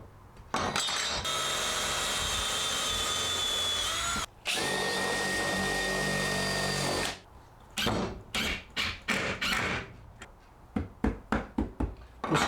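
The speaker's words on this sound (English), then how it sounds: "Put the countersink bit in this other drill" A power drill fitted with a countersink bit bores into wood while building a cold frame, running in long steady whirring stretches and then in a string of short bursts.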